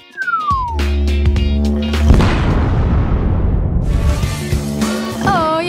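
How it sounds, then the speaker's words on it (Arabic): A fake cake bursts with a sudden loud boom that rolls into a long, noisy rumbling blast, followed by fading debris and swooping cartoonish effects. "أوه، يا له من انفجار مدوي."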